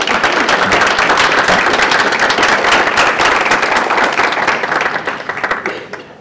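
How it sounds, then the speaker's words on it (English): A church congregation gives a lecturer a warm round of applause at a lecture series, dense clapping held steady for several seconds before tapering off into quiet. "Could you give him a round of applause?"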